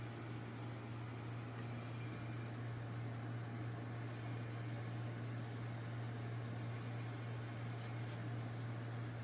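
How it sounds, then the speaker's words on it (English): Two large blower fans on a Peopoly Magneto X desktop 3D printer with magnetic drive, a steady whirring hum with an even hiss, constant and unbroken, moderately quiet and close. "The only thing that's loud is a fan. You see it's got 2 massive blower fans."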